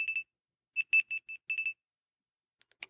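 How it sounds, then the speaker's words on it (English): Rooster alarm tone on a Smart Vision 3 phone: three groups of short bright crowing-like synthetic bursts, close and clear, followed by a few faint clicks. "Rooster alarm."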